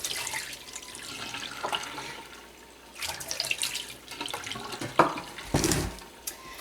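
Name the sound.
hot water being dumped out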